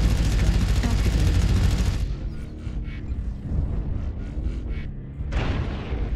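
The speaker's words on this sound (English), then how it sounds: "Artillery strike on fire. Artillery strike activated." Artillery strike in MechWarrior Online, a dense roaring barrage of booms for about two seconds, then a series of thumping impacts, and another loud burst near the end.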